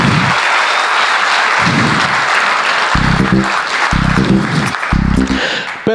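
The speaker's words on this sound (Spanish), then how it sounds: "Por eso yo quisiera un gran aplauso de todo el público." Audience applause at an event about artificial intelligence in the Dominican Republic, heard as a continuous wash of clapping throughout, with low tonal bursts breaking in at intervals that suggest music or speech underneath.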